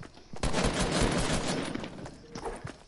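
Rapid bursts of video game gunfire fill the scene, dense and loud from the start, easing off slightly toward the end with a few sharper shots standing out.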